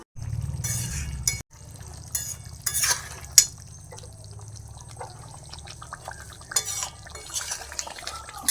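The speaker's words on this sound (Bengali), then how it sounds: "আর মাংসটা ফুটছে" Chicken curry meat for biryani simmers in a pot at home. There are soft bubbling sounds with intermittent close stirring scrapes and light metallic clinks throughout.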